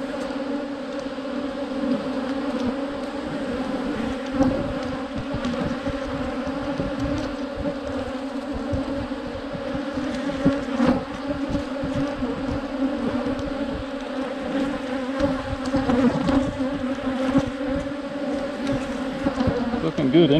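Honeybees swarm and buzz around an open hive in an Alberta apiary during a brood box inspection, a dense, steady droning hum that stays close and continuous throughout.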